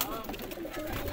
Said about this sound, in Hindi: ये देखिए इसमें 79 वाले कबूतर हैं, स्लेटी 79 वाले